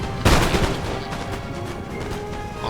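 A sharp volley of musket fire from Grenzer infantry in the Napoleonic battle game Napoleon Total War bursts out early, then trails off into a low rumble of scattered distant shots and battle noise.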